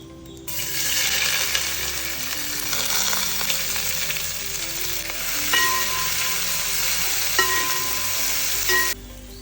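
Onion and green chilli frying in coconut oil in a pan for an egg curry, a loud, continuous sizzle with scraping stirring strokes running steadily throughout and no talking.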